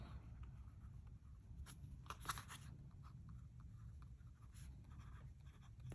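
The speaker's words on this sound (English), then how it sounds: "Here I'm writing with my custom 823 from Pilot." Pilot Custom 823 fountain pen with a fine nib scratching across Midori MD A5 notebook paper, faint and close, with soft irregular strokes and a few brighter scratchy bursts over steady background hiss.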